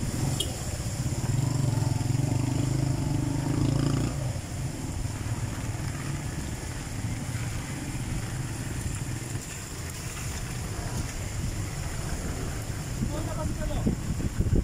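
Steady roaring typhoon wind with a broad rushing wash of heavy rain, loud and continuous throughout, with a low rumble underneath.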